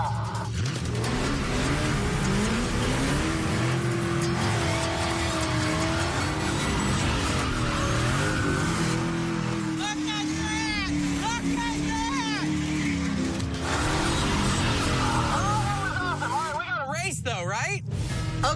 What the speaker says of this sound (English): I've always wanted to do a burnout on the strip.